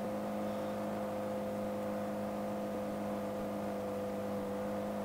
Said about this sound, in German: ich fahre jetzt hier mal geradeaus hier den Berg hoch